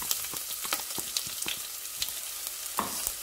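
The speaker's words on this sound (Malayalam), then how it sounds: "ഇഞ്ചിയും വെളുത്തുള്ളിയും കൂടി ഇട്ട് കൊടുക്കും." Ginger and garlic sizzle in hot oil for a fish curry, a close, steady frying hiss dotted with sharp pops and crackles.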